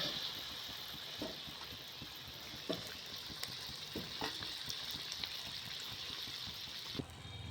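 Palm-fruit malpua batter frying in hot oil, a steady bubbling sizzle that holds throughout with a few soft clinks and stirring knocks, close and moderately loud, no one talking.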